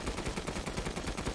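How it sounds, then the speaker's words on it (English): Rapid, continuous machine gun fire from a video game, Resident Evil Village, a dense unbroken stream of shots at steady volume throughout. "So we got the machine gun."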